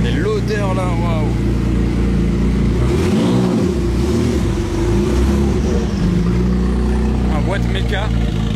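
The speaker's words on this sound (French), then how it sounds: "ça faisait longtemps que j'avais pas entendu une voiture aussi bruyante, mais même sans qu'elle accélère en fait." Jaguar XJ220 with a manual gearbox, its loud engine rumbling and droning close by at low speed. The deep growl holds steady with swelling revs, and people talk over it.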